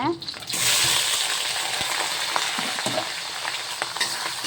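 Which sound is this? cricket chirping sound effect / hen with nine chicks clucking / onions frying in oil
onions frying in oil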